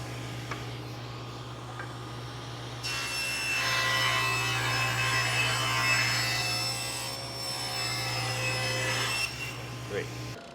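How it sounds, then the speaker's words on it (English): A large belt sander runs over wooden face-frame beading strips laid side by side, its rough abrasive whir swelling loud and steady after a brief lead-in, then cutting back near the end. "So this is just one large belt sander. So I just lay them all together, and it starts sanding them all nice and pretty."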